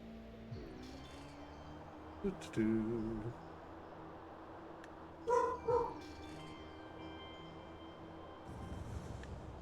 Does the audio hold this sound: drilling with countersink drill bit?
no